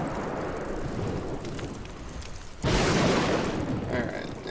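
Rain hisses steadily in the Don't Starve Shipwrecked video game, swelling with a sudden thunder boom midway that leaves the downpour louder, while someone talks over it.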